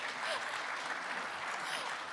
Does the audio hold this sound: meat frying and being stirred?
no